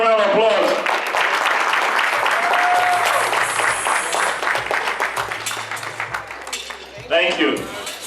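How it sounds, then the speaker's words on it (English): Gala audience breaks into loud, sustained applause mixed with cheering, while a voice speaks over the clapping and music plays faintly underneath. "Give them a big round of applause."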